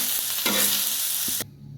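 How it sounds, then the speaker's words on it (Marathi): Okra roasts on a hot griddle, sizzling loudly and steadily while a utensil scrapes and stirs it close up, the frying noise dropping off sharply near the end. "आपल्याला भेंडी तव्यावरच भाजायचं आहे इथं, मस्त लागते।"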